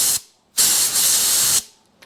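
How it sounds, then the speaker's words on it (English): Compressed air blows off a Yamaha Twin Jet motorcycle handlebar switch in two loud, close hissing bursts: a brief puff, then a longer steady blast about a second long. "I just take and blow it off with some compressed air"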